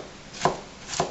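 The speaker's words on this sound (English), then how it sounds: "water chestnuts that are already sliced, so now all we have to do is kind of chop it up" A knife chops sliced water chestnuts on a cutting board, two crisp close strikes about half a second apart in a quiet kitchen.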